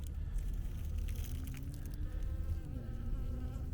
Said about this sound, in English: Wow, there's a lot of bees.